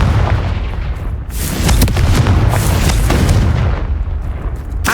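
A loud magical fire blast from the Confringo spell in Hogwarts Legacy erupts in a deep, sustained boom with crackling bursts, rumbling close and heavy for several seconds.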